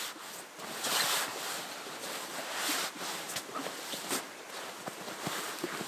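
A sleeping bag is stuffed into a backpack, with continuous rustling and rubbing of nylon fabric, close and steady with occasional firmer pushes and scuffs.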